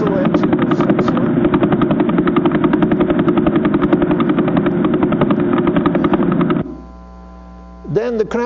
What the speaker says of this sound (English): the Vela pulsar, which pulses 11 times per second.